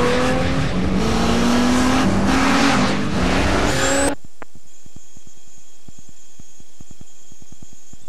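A race car engine roars loudly and climbs in pitch through several gear changes with some tire noise for about four seconds, then cuts abruptly to a quiet, sparse clicking background.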